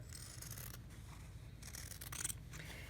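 Quilting fabric for half-rectangle triangle units is cut apart along a drawn line, giving faint, close snipping and rubbing sounds with no talk.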